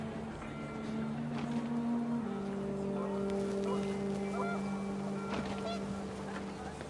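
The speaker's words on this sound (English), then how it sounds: "The wind picked up and panicked geese appeared and quickly went." Panicked geese honking in the game What Remains of Edith Finch, a cluster of honks and calls over a steady windy drone, moderately loud.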